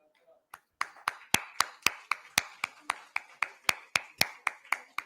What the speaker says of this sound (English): A big round of applause as we invite him on stage.